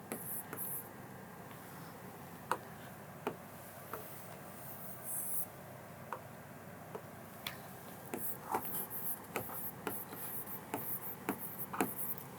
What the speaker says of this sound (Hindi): हम यहाँ पर एक पॉइंट लिखेंगे